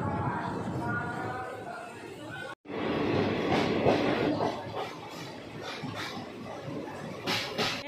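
Lokshakti Express passenger train rolling along the rails after leaving Maninagar, Ahmedabad, on the route to Bandra: a steady, loud, close rumble with rattling, a brief dropout near the middle, then continuous motion noise.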